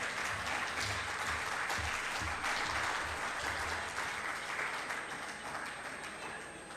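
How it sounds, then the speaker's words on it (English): A crowd applauds steadily for several seconds, a dense wash of clapping that gradually softens toward the end. "Clap for me."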